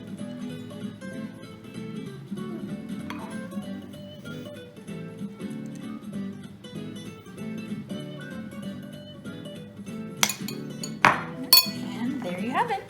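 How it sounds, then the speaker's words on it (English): Whipped dalgona coffee is spooned on top of two glasses, giving a few sharp clinks of spoon against glass near the end, after a long stretch of soft background hum. "then you're going to spoon your fluffy coffee on top"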